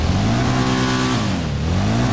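A Western Reever motorcycle engine revs loudly and steadily in GTA 5, its pitch rising, dipping briefly and then climbing again with no talk over it.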